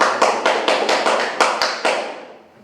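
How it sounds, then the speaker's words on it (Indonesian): A classroom of students claps for a classmate named Rio. The applause is brief and close, about nine sharp bursts of clapping that fade out after two seconds with no one speaking. "Aplaus untuk Rio"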